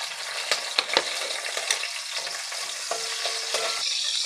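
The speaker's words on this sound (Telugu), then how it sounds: "ఇందులోకి ముందుగా కట్ చేసి పెట్టుకున్న ఆనియన్ని, మిర్చిని కూడా వేసుకొని లైట్గా ఫ్రై చేసుకోవాలి" Chopped onion and green chili fry lightly in oil with mustard seeds, a steady close sizzle with occasional pops and a few stirring scrapes against the pan, and no talking.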